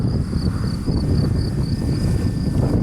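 Steady strong wind buffets the microphone with a constant low rumble, while a thin high-pitched whine from a small electric model plane hums faintly in the background.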